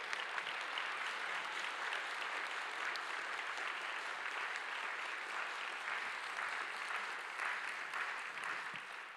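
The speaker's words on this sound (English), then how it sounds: "Let's give Alex English another round of applause" Crowd at a Dr. Martin Luther King Jr. Day ceremony gives sustained applause for Alex English, an even wash of many hands clapping throughout, fairly distant and soft.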